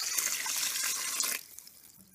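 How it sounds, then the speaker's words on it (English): Water pours steadily into rice inside an electric rice cooker, a close, continuous rushing stream that stops abruptly after about a second and a half, leaving quiet room tone. "so I am going to add 4 cups of water."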